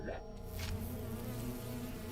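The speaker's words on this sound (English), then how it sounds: "one of the bees flew over to me" Bees buzzing in The Hundred Line: Last Defense Academy video game, a dense, steady insect drone with a brief louder swell near the start, fairly faint against background music, with no speech.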